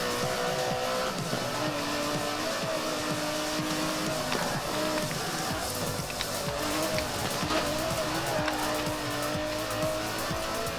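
Aston Martin DB11 in Forza Horizon 4, a steady engine drone with tire squeal and skidding running continuously at an even, fairly loud level.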